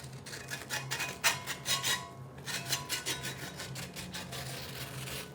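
A metal spatula scrapes repeatedly and rhythmically against a cast iron pan beneath a Dutch baby pancake, giving close, raspy strokes with a brief pause midway.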